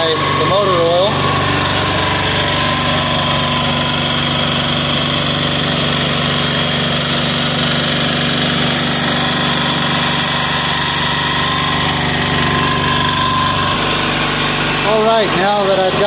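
Small Amazon diesel engine running on hydraulic jack oil, a loud, close, steady high-pitched chugging drone that holds throughout, with a brief whine near the start and end.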